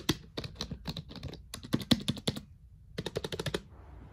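Keys clacking on an old, dusty Dell computer keyboard, quick bursts of crisp close-up keystrokes in irregular runs with a short pause midway, heard alone.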